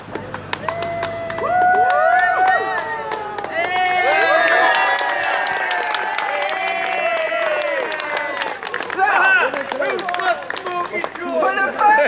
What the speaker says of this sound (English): Cheering now.